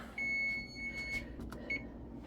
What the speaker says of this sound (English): All right, our timer is going off.